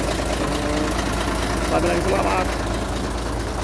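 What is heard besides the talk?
Forward truck engine idling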